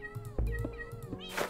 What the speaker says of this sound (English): When you place it on the right color, then it actually meows at you